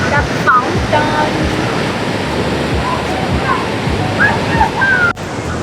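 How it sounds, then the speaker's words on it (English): Water fountain in Tashkent, Uzbekistan, splashing continuously with a steady, close, loud rush, with people nearby in the spray. "It's a fountain."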